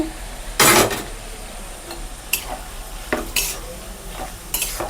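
Ground spices are stirred into bamboo shoots frying in a pan for pickle, with a soft sizzle beneath several sharp scrapes and clinks of a spoon against the pan at irregular intervals.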